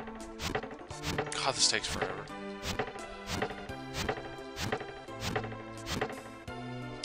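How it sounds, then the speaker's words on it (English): Repeated chopping hits as mushrooms are cut down in the SNES game Final Fantasy Mystic Quest, a steady series of sharp thwacks over looping game music, with someone talking briefly. "Chopping down shrooms."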